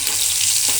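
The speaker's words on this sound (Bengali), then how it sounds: "এইভাবে এক এক করে ভেজে নেব সব" Soybean chunks fry in hot oil for soya manchurian, a loud, dense, continuous sizzle heard up close in a brief burst with no speech.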